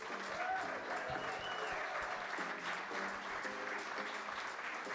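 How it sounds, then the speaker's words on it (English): A rugby club audience applauds its guests with sustained, dense clapping, close and steady, with faint voices and a few whoops mixed into the crowd noise. "have a huge round of applause for our guests"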